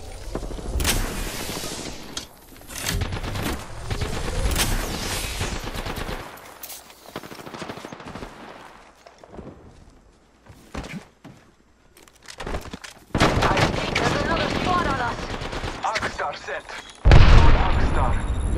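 Rapid bursts of automatic gunfire in the battle royale game Apex Legends, loud and near, stuttering in clustered volleys with a heavy boom near the end, while players talk over the shooting.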